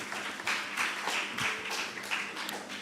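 Audience applause for student contestants at a national investment quiz competition's quarter-final: a steady patter of hand claps with slightly rhythmic surges, moderately loud and close, lasting throughout with no talking.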